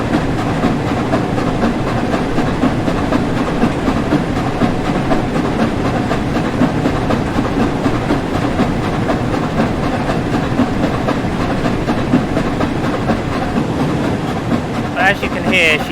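The Flying Scotsman steam locomotive in Train Sim World 4 chuffs along with a steady, slightly uneven exhaust beat over continuous rail rumble and hiss, holding at the same moderate loudness throughout, with a faint click near the end.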